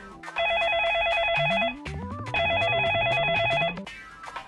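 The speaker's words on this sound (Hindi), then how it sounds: "अमर को फोन लगाते हैं।" An outgoing phone call ringing: two electronic ring bursts, each about one and a half seconds, separated by a short gap and a rising tone sequence, heard up close and clear.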